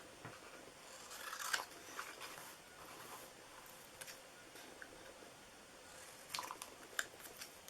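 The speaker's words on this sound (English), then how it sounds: "we're just going to cut that, hand cut that out. And I'm just cutting close to the letters." Scissors hand-cutting stamped paper close around the letters for a Halloween treat box, with a few soft, scattered snips and faint paper rustles over a quiet background.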